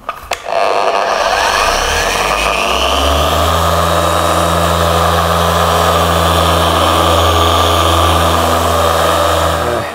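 A large polishing machine buffs the flat panels of a Jaguar car, running as a loud, steady drone with a low hum that settles after a short start-up and continues unbroken.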